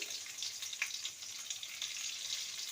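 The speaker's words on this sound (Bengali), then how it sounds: "আলুটাকে ভেজে নেব দিয়ে দেবো সামান্য লবণ" Diced potato cubes fry in oil in a pan, giving a soft, even, continuous sizzle that sounds close but quiet, with no voices over it.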